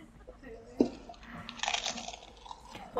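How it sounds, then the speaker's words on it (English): Someone eating Pringles crisps, a few close crunchy bites and soft chewing sounds in a quiet room, with faint talk in the background. "She was eating her Pringles right now."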